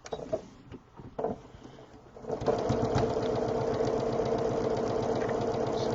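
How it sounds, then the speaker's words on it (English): A sewing machine stitches a quarter-inch seam, starting after a couple of quiet seconds of handling and then running as a steady, rapid, close-up mechanical whir. "I'm going to sew a 1/4 inch seam again"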